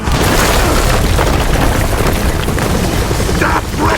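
Rocket explosions boom continuously in the Gears of War 4 video game, a loud dense wall of rumbling blasts and debris noise that fills every moment.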